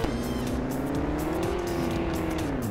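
A Lamborghini Gallardo drives in the mobile game Car Parking Multiplayer. Its engine holds a loud, steady, rising and falling note throughout, with a hint of tire noise and no talking.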